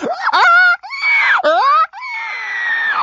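A human voice mimics a female monkey in heat with loud, rising and falling wailing whoops in three bursts, separated by brief gaps, and no other sounds.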